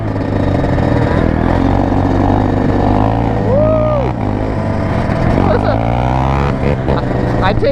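A Honda three-wheeler revs and rides around a lot, its loud motor rising and falling in pitch as it passes close by, while people talk and shout over the engine noise.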